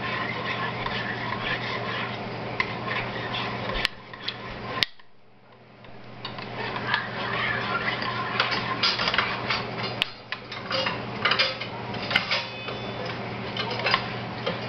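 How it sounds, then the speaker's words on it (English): Spoon working through Concord grape jelly in a pot, giving steady ticking scrapes and soft clinks throughout, with a brief quiet gap partway through. "So now I'm going to stir it. I'm going to stir it a lot."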